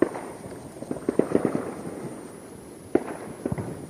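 July 4th fireworks grand finale heard from a distance, scattered sharp pops and crackling bursts in irregular clusters over a faint steady background hiss.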